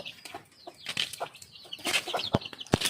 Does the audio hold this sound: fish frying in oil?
no